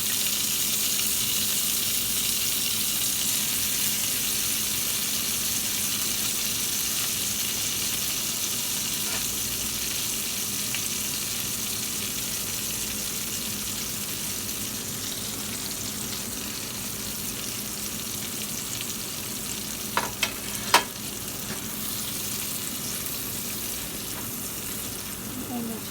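Food sizzling steadily in a skillet, a constant hissing fry close by for nearly half a minute, broken only by a couple of brief clinks near the end; no one speaks.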